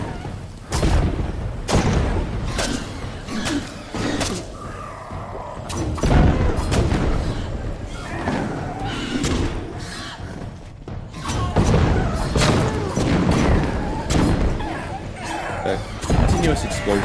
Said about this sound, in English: Continuous explosion sounds also of these daggers